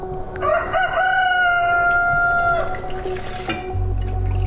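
A rooster crows loudly and close by, one long drawn-out cock-a-doodle-doo call followed by a short lower cluck, heard alone against a quiet outdoor background.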